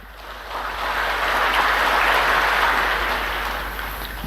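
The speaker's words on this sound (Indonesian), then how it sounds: "Jangan terlalu cepat tepuk tangan." A large audience claps during a speech to teachers and students at an Indonesian school event, the dense, distant-sounding applause swelling to a peak and then slowly tapering off.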